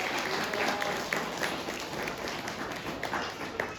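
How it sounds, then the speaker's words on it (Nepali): A church congregation at a revival seminar breaks into loud, sustained applause, dense and continuous clapping from many people throughout. "हामी एकचोटि जोरदार हाम्रो ताली बजाएर परमेश्वरलाई धन्यवाद दिन्छौँ"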